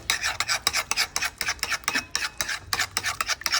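Smoky chipotle coleslaw being tossed in a bowl, a steady rhythm of wet rasping and scraping strokes repeating several times per second, close and moderately loud with no talking.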